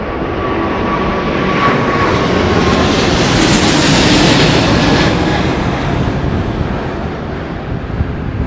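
Emirates airliner flying low over fields near Heathrow during Storm Darragh as it goes around with gear extended, a loud continuous engine roar mixed with heavy wind rumble that swells and fades over several seconds.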